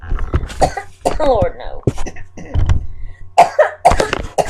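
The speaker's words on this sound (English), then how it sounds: "Don't let me start coughing again." A person coughs a few times in short harsh bursts, mixed with brief muttered speech, close to the listener.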